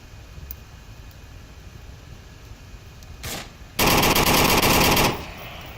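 A sniper rifle fires in the Onward VR shooter during a competitive VRML match: a brief crack, then a loud, sustained burst of noisy gunfire lasting over a second, over a steady background hum.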